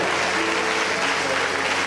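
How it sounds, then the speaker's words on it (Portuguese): A church congregation applauds with dense, continuous clapping that fills the whole short moment at steady loudness. "Pode aplaudir com mais gozo, é para Ele."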